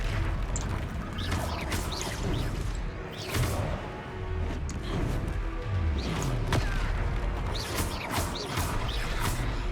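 The fire-spell explosions of Confringo burst in the Hogwarts Legacy video game, several sharp blasts and crashes with whooshing sweeps over a busy, layered game soundscape, at moderate loudness.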